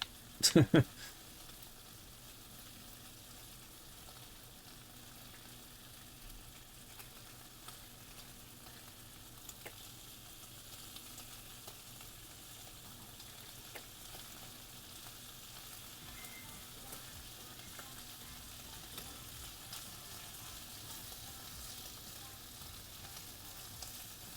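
Butter sizzling in a pan in the Chef Life restaurant simulator, a faint steady frying hiss running throughout, with a brief clatter at the start and talk over it.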